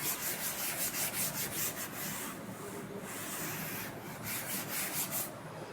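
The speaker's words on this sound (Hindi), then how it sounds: "ये रब कर देता हूँ" Writing on a board is erased with steady back-and-forth rubbing strokes, a close, rhythmic scrubbing that pauses briefly before resuming at the same pace.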